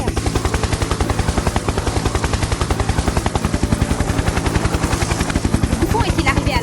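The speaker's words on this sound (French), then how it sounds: "On dirait un hélicoptère." A helicopter close by and loud, its rotor beating in a steady, fast chop that stays strong and even throughout, with no voices.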